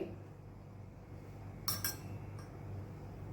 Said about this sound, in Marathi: आता आपण डोशाचा तवा ठेवला नवीन तवा आहे